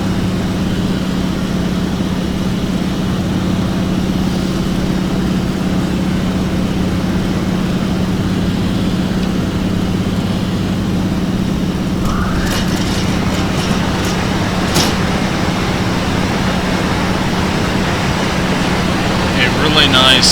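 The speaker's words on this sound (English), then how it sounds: "let y'all listen to the sounds of the airplane" A steady, droning propeller engine of a T-6 airplane in a flight simulator hums continuously at a constant pitch, with rushing wind noise and a few brief clicks near the end.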